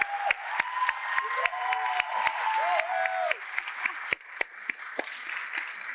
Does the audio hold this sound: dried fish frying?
no